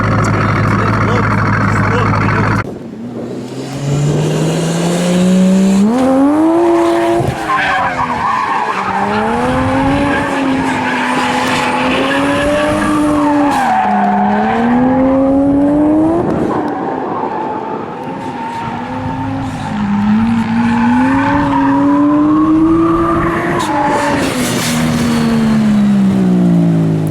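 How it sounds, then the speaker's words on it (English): A Corvette drifts with its engine revving loud and wavering while the tires squeal continuously, close and dominant for nearly half a minute, with voices faintly mixed in. "I'm gonna take Taylor's Corvette for a rip and see how that thing goes"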